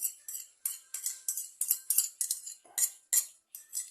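Utensil stirs Catawba grape juice and distilled water in a container for homemade wine, a steady run of about a dozen quick, close scraping clinks in an even rhythm with no talk.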